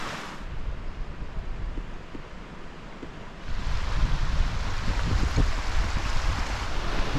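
A Snowdonia river rushes steadily, a broadband roar of flowing water that swells louder about halfway through and stays close and constant, with no voices over it.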